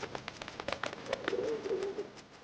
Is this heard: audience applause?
no